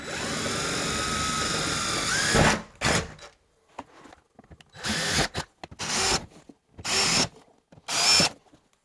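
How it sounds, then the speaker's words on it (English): A power drill pre-drills screw holes in a door sweep, starting with one long whining run, then stopping and starting in several short, loud bursts separated by pauses and small handling clicks. "I am going to pre-drill these slots right here with a drill bit that's just slightly smaller than the provided screws"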